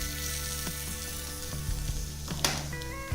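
Treacle bubbling and caramelising into toffee in a hot pan alongside scallops gives a steady close sizzle and frying crackle, with faint clinks of utensils as the scallops are moved.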